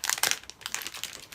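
A snack bag of Mexican-made Japanese-style peanuts is crinkled and handled in a few quick, sharp plastic rustles, close and loud, with short pauses between bursts.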